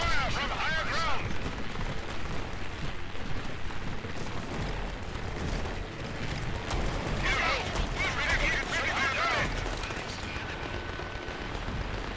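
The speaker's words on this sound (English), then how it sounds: "These bombing raids are really starting to annoy me." Bombing raid explosions in the video game Grit & Valor 1949 make a constant heavy rumble of blasts and gunfire. A voice talks over the din at times.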